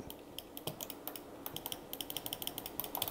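Buttons on a Belkin Trackmaster trackball are pressed repeatedly, making a quick, light patter of small plastic clicks up close, soft and steady, with no one speaking.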